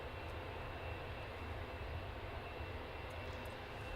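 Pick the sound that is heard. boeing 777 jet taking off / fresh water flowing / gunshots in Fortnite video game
boeing 777 jet taking off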